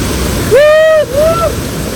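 Steady rushing roar of falling water fills the scene, with a brief high whooping tone rising over it midway.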